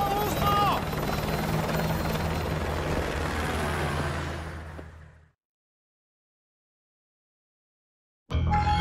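Steady, loud rotor thump of a helicopter in the game Call of Duty: Modern Warfare 2, with a voice over it, fading out to several seconds of silence before sound cuts back in.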